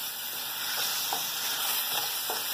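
Tomato puree sizzling in hot oil and ground spices for Punjabi-style rajma masala, a steady bright hiss of frying with a few soft stirring scrapes, no talking.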